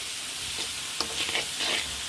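Fish pieces sautéing with taro stolons in a pan for a coconut-milk Khulna-style curry, a steady broadband sizzle with a few sharper stir scrapes and clicks, close and alone without talk.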